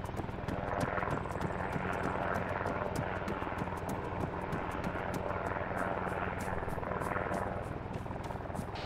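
Two helicopters in a military video game, a continuous rotor drone with rhythmic blade chop and engine whine at moderate distance, steady throughout with no talking.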